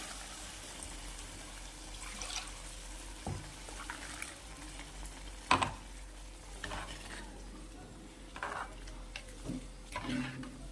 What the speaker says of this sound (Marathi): आणि कमी आचेवर याला पाच ते सात मिनटं उकळू द्यायचं